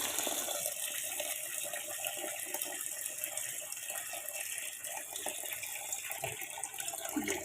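Tap water running steadily into a sink or bowl to soak rice for chicken biryani, a continuous close splashing hiss with no talk.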